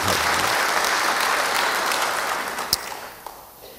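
A congregation claps for the preacher during a church sermon: a thick, even wash of applause that slowly thins and fades toward the end, with a couple of isolated claps standing out as it dies down.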